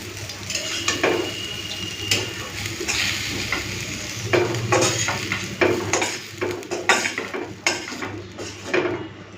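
Bitter gourd and kakrol fry with onion and green chilli in a kadai: a steady close sizzle throughout, broken by frequent scraping and clinking strokes of a spatula stirring against the metal pan, with no voices.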